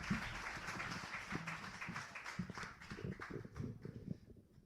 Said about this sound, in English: Give a great big round of applause to Greg Bliss.